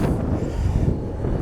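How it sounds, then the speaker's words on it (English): Steady, blustery wind buffets the microphone with a continuous low rumble, loud and close, no voices, at Gibraltar airport. "So this is a windy day, but everything is fine."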